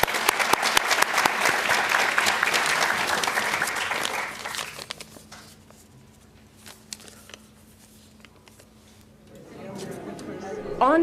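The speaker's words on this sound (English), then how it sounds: "let's give her a round of applause" An audience claps in a loud, dense round of applause at an evening event, which fades after about four seconds and gives way to quieter room sound and a voice.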